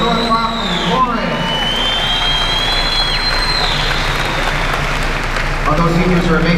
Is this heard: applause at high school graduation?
yes